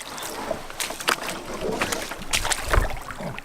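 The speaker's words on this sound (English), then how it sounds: "And just keep slowly paddling." A canoe is paddled slowly on the water of the Bowron Lake Circuit, giving irregular close splashes and drips mixed with gusts of wind noise.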